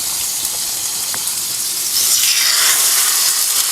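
Chicken pieces sizzle in a hot grill pan, a steady, loud hiss of frying that swells stronger partway through, with no talking over it.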